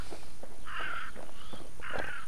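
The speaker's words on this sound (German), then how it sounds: "Oh, Krähe höre ich, eine Krähe." Crow cawing inside the PC survival game Infestation Survivor Stories, three harsh caws spaced across a couple of seconds over a steady background of game ambience and faint footsteps.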